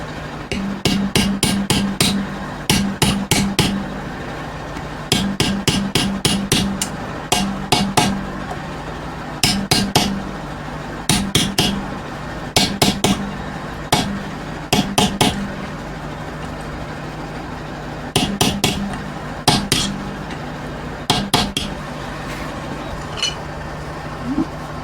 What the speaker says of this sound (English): I've got to take off the pedal, get it in the vise, and hopefully try and straighten up this bent tab here